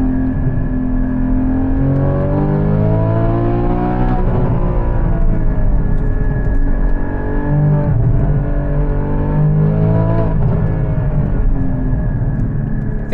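A Porsche 981 Cayman GT4 engine revs hard while driving, rising and falling in pitch through the gears as a loud, continuous close-up drone with no talking over it.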